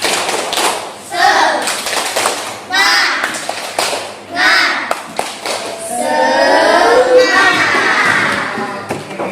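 A group claps in short rhythmic bursts, a spirit-raising clap chant, thumps of hands landing together, mixed with a man's speech between rounds and a longer stretch of rapid clapping.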